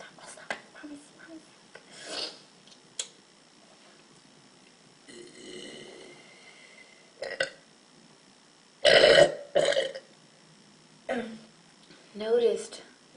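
A Latina teen girl lets out a string of loud, drawn-out burps separated by quiet pauses, with some talking between them.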